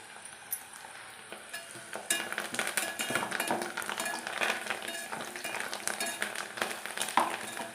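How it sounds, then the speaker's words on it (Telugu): Onions frying in a pan: a dense crackling sizzle that swells after the first couple of seconds and holds, with occasional light clinks of a utensil against the pan. "ఉల్లిపాయలు బాగా ఫ్రై కావాలండి."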